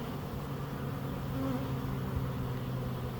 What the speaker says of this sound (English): There's plenty of bees in there.